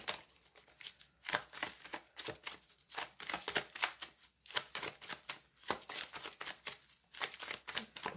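Tarot cards being shuffled by hand for a reading, a busy run of crisp riffling and slapping card sounds in quick irregular bursts, close and fairly quiet, with no talking.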